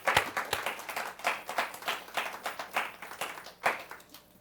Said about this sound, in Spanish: Un aplauso para el Señor, tus hermanos.